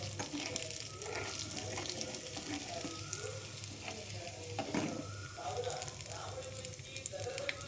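Asafoetida tempering in hot oil for a raw mango and fenugreek pickle, a soft continuous sizzle with light stirring scrapes, fairly quiet and close.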